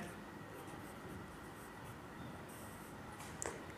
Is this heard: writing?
yes